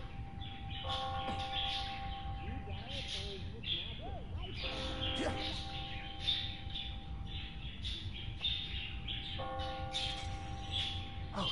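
Church bells ringing in the video game Spider-Man: Miles Morales, several tonal peals in separate bursts over a soft background bed with chirping birds, fairly faint and even.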